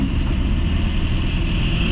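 A 2016 Toyota Avanza engine with a clogged catalytic converter runs at high revs, giving a loud, steady, noisy drone that holds constant with no talk over it.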